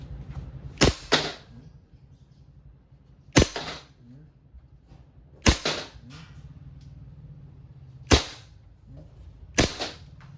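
Silver WE M92 airsoft pistol fired during an accuracy test: five sharp, loud gas-blowback shots spaced a couple of seconds apart, each snap followed by a brief clack, in a quiet setting.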